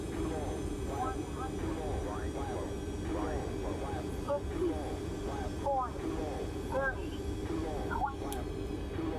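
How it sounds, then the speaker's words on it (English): Jet engine of a DC-9 airliner in a flight simulator game during landing, a steady continuous roar throughout, with a person talking over it. "Okay, here's the landing."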